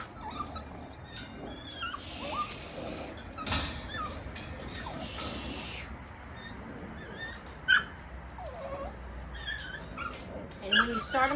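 A Rottweiler puppy whimpers, yips and lets out short barks during tug play, soft and close, with scuffling and a few sharp yelps scattered through the clip while a person talks quietly.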